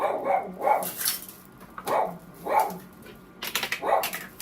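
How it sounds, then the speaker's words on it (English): A dog barks in a kitchen, sharp loud barks close by in uneven clusters with short pauses between them. "It's my dog."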